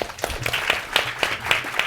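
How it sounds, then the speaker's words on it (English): An audience claps for the panelists of a female entrepreneurship panel, a thin, fairly regular patter of hand claps from a modest crowd, close and unbroken by voices. "before we give our panelists a round of applause"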